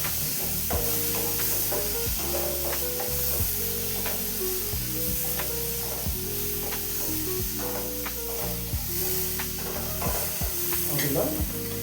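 Tomatoes sautéing in a pan for Mysore rasam give a continuous close sizzle and hiss, with repeated stirring scrapes against the pan and no talking.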